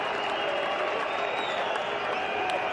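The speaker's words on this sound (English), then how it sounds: "He's brought the crowd to life again, brought them to the feet." A cricket stadium crowd applauds a boundary at an England v India NatWest Series one-day international, a dense, sustained wash of clapping and cheering heard from a distance, with a commentator speaking over it.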